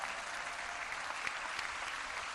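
Steady applause from a crowd at a political rally in Tepic, Nayarit, continuous and fairly even throughout, with no voices standing out.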